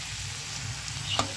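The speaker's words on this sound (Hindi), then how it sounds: "मेरे मटर और मेरे प्याज काफ़ी अच्छे से लाइटली फ्राई हो गए हैं" Peas and onions lightly frying in a pan, a steady soft sizzle running through the whole stretch with a brief clink near the end, heard alone at low level.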